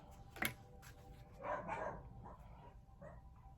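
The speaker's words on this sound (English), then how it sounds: "You might hear the dogs in the background." Dogs bark somewhere in the background of a quiet indoor room, a few faint, distant woofs and yips scattered across a few seconds.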